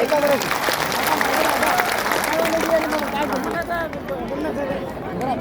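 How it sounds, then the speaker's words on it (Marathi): A crowd applauds at a rally march of the Adivasi community, with sustained clapping mixed with murmuring voices and crowd chatter. "आपण सर्वांनी मिळून यांच्यासाठी जोरदार टाळ्या वाजवल्या पाहिजे"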